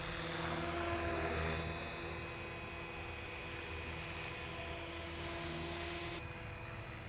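Helicopter in an inverted hover at 65% rotor RPM, producing a steady, loud high whine and rotor drone that holds constant with slight wind noise.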